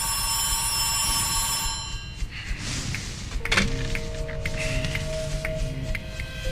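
A telephone rings at night, a bright electronic ring sounding for about two seconds, then stops, followed by a thump and quieter movement sounds; no talking.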